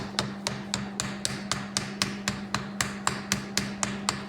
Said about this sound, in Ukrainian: Труба нагрілася і отак легесенько по кругу завальцьовуємо.